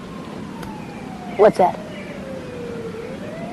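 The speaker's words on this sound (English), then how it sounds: "Sirens." A faint police siren wails in the distance, its tone slowly falling and rising, while a comedian on a stand-up stage briefly asks a short question over it.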